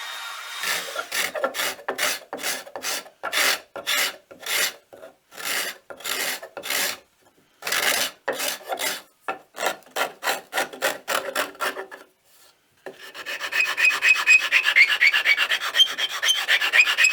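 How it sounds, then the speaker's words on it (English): A router cuts a recess into the wooden base of a speaker stand, heard as a long series of rhythmic rasping strokes with brief pauses, then a steadier, brighter continuous cutting noise near the end, close and fairly loud. "I'm going to route a recess for a bottom plate"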